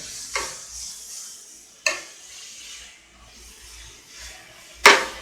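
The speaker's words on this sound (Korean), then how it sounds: "당근을 그냥 충분히 볶아준 거예요." Carrots are stir-fried in a pan with a soft background sizzle, while a utensil scrapes and clacks against the pan three times at irregular intervals, the last scrape loudest.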